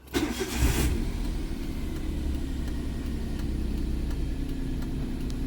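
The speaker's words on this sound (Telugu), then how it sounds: "స్టార్ట్ చేస్తున్న వెహికల్ అయితే ఒకసారి చూడండి" A Maruti Alto 800 car engine cranks and catches with a short burst, then settles into a steady, low idle close by; no speech.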